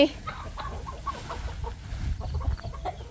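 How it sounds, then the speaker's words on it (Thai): Chickens cluck in short, scattered bursts close by, over low background rumble and faint shuffling noise. "ไก่"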